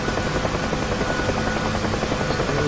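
A UH-1 Huey helicopter in the DCS flight simulator, with a steady loud rotor thump and turbine buzz running continuously and close throughout.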